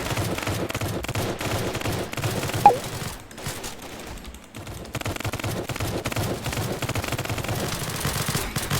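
Rapid gunfire in the Roblox Squid Game, dense bursts of shots running almost continuously, with a brief quieter gap partway through before the shooting resumes loudly.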